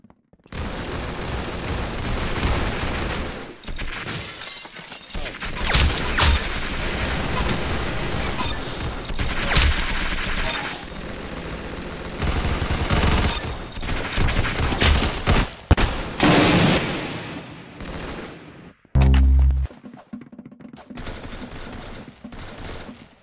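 Dense gunfire in the Roblox game Arsenal, with rapid overlapping shots, automatic bursts and booms nearly continuous and loud, and a brief low thump near the end.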